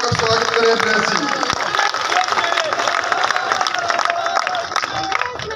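A large crowd at a Rajasthan election nomination rally in a main market claps and cheers to welcome a candidate, loud and continuous, with crowd noise and voices mixed in.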